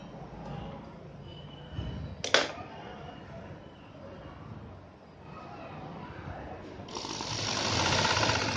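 A sewing machine stitches a cold shoulder sleeve, a continuous close buzzing hum with a sharp clack partway through and a louder, brighter run of stitching at the end.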